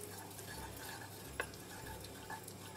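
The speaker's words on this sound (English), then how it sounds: "Just melting that coconut oil." Coconut oil melting in a pan, a faint soft sizzle under light scraping, with a couple of small sharp clicks and no talking.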